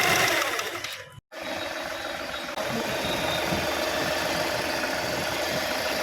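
A Volkswagen Polo engine, under repair for an oil leak, runs at a steady idle after a brief cutout near the start, with a continuous close hum and no talking.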